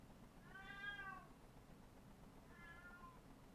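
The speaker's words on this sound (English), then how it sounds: "This is my cat meowing." A pet cat meows twice, close and quiet, the first meow longer and louder and the second softer, over a faint background hiss in an otherwise silent room.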